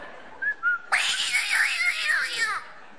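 A man on stage in a French comedy show imitates a cat, giving two short soft mews and then a long, loud, wavering meowing wail that stands out clearly with nothing else over it.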